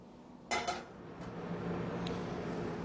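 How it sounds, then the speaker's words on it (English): A new carbon steel pan is set down on a stove with a short metallic clank and rattle, followed by a quiet background hum. "put it on the stove and begin to heat the pan."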